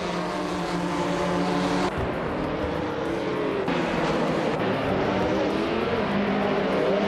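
Race cars roar around a track, led by a 2015 Porsche 718 Cayman GT4, with a loud, continuous engine drone whose pitch rises and shifts as the cars accelerate and change gears, with no voices.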